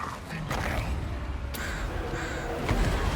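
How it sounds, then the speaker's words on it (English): Crows caw a few times over a dense wash of battle noise in the fantasy strategy game Total War: Warhammer 2, the calls fairly clear above the constant rumble. "The crows go in."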